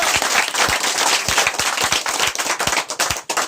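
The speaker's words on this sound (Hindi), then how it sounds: "एक बार फिर से इनके लिए जोरदार ताली होना चाहिए।" Loud applause for the CMD at a company gathering, many sharp hand claps ringing out close and dense, continuing strongly before thinning near the end.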